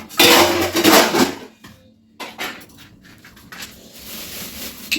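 A silver saucepan and metal pots are moved about in a home kitchen, with clattering scrapes and knocks that come in uneven bursts, then quieter shuffling.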